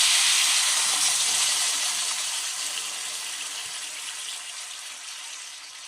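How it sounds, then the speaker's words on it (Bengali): Hot water pours into a potato and paneer curry in a loud, rushing splashy hiss that slowly fades over several seconds, heard close and alone. "গরম জল দিলাম"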